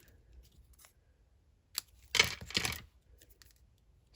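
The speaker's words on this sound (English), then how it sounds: "I'm going to just do my best to pennant this with my scissors" Scissors snip through paper in a few quick crisp cuts, close and fairly quiet against a near-silent room.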